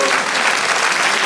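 Dense, steady applause from a church congregation, a short burst of full clapping filling the room.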